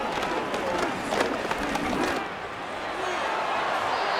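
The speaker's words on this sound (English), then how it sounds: "I'm starting to detect an uneasy murmur through this crowd" Uneasy crowd murmur in a home stadium during a simulated NFL football game between the Commanders and Lions, a steady broad hum of many voices with a slight dip midway before swelling again.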